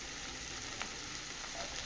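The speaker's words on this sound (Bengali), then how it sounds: "এদিকে চিচিঙ্গে চিংড়ি দিয়ে ভাজা কমপ্লিট হয়ে গেছে" Ridge gourd fries with prawns in a pan, giving a close, steady sizzle and hiss with a faint stir or clink now and then, and no voices.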